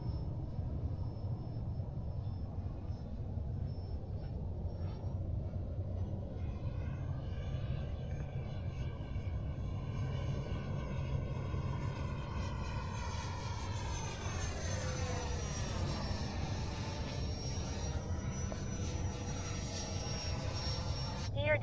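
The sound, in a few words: Freewing F-16 90mm electric ducted fan RC jet flying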